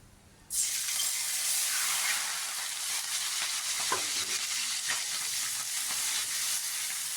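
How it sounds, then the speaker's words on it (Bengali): Onion paste hits a hot pan with spices already fried in oil and a little sugar, bursting into a sudden loud sizzle that holds steady, with occasional scrapes of stirring. "এটা ভাজতে হবে, যতক্ষণ কাঁচা গন্ধটা না যায় ততক্ষণ একটু ভেজে নেবো পেঁয়াজটা।"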